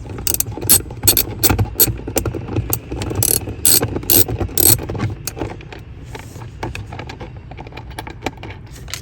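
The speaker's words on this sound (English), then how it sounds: "we're going to use a 9/32 socket to remove this bolt right here." A ratchet with a 9/32 socket backs a bolt out of a dash-mount tray in a vehicle. Rapid bursts of close, crisp clicking are loud at first and grow softer and sparser toward the end.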